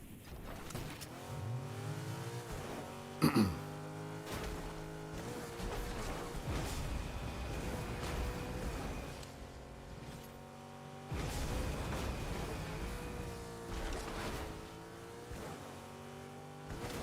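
A car drives in Fortnite with a continuous engine drone whose pitch rises and falls as it accelerates and shifts, with a brief sharp knock early on, moderately loud and steady with no talking.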